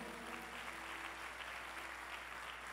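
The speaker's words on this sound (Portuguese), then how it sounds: "dá uma salva de palmas a Jesus" Church congregation clapping for Jesus during a sermon, a steady dense wash of applause that holds evenly through the whole stretch with no voices over it.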